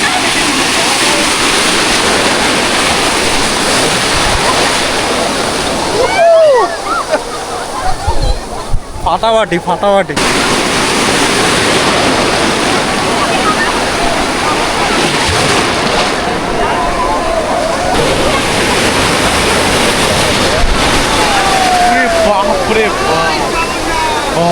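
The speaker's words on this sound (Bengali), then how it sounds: "এই দেখো ঢেউ দেখো এক একটা" Loud sea waves crash and roar continuously on Puri beach, a dense broadband wash that briefly dips before surging again, with someone talking excitedly over it.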